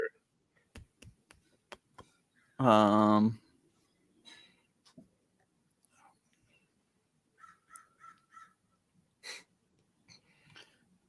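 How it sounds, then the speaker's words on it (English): A crow caws once loudly, a harsh buzzy call amid quiet scattered clicks and faint distant chirps. "Did you hear the birds?"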